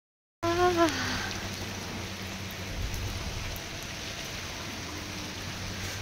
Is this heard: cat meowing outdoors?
no